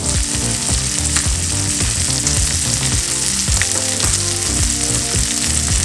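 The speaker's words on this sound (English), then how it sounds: "those are our blackened trout, our blackened speckled trout fillets" Blackened speckled trout fillets frying in a pan, a steady loud sizzle with faint scraping and clinks of a utensil throughout, no voices.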